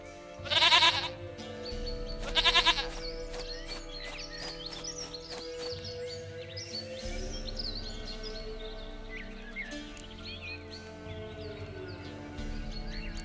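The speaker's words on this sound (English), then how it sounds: "Goat of mine, dearest, sweetest goat." A goat bleats twice in The Witcher 3: Wild Hunt, two loud, quavering calls close together near the start, then a game soundscape with music and faint bird chirps.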